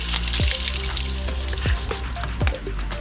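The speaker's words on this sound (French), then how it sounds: "je rince mes brosses." Bike-cleaning brushes rinsed under running water, a steady close splashing wash with a few brief knocks of the brushes against a bucket or bike.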